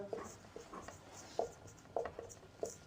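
Pen scratching across paper while a math problem is worked out, in short soft strokes with brief pauses between them, close and quiet with no talking.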